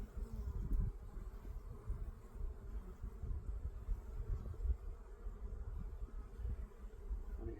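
Honeybees swarm around an open hive during a spring inspection, making a soft, continuous low buzz that stays close and faint throughout, with no talking.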